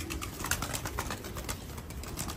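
Pakistani high-flyer pigeons coo softly inside a loft, low murmuring calls repeating over a constant background hum.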